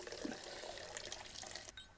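Water runs steadily from a tap while being collected in the video game Size Matters, a continuous splashing flow with faint drips, heard alone with no talk.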